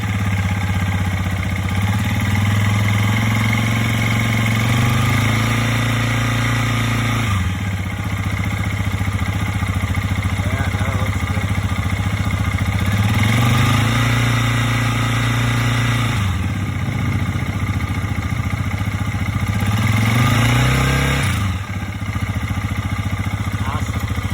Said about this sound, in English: Oh, oil's just circulating. Rev it up a bit.